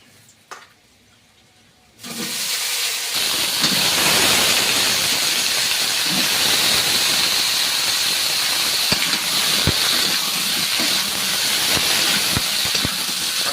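Potatoes drop into a pan of hot oil tempered with cumin and whole spices, and after a couple of quiet seconds a loud, close, continuous sizzle and hiss starts abruptly and holds steady with occasional crackles.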